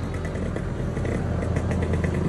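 Two-stroke motorcycles at an outdoor bike meet in Rizal, engines running steadily close by with a dense, buzzy drone and small rapid fluctuations, with no voices over them.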